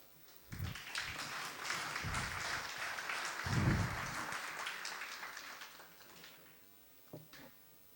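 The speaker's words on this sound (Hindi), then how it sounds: "एक बार जोरदार तालियों के साथ" Audience applause at a school-hosted Hindi poets' gathering in Hapur, moderate and fairly distant, a sustained crowd clapping that swells briefly mid-way and then tapers off, with a few scattered claps near the end.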